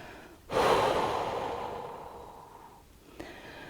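Slow, audible exhale during a hatha yoga session in a small space, a long breathy rush that starts abruptly and fades gradually over a few seconds, close and clear, followed by a brief quieter breath at the end.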